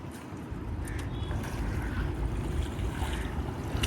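Steady wind rushes over open water, a continuous broad roar with washing waves and gusty buffeting on the microphone, and no voices.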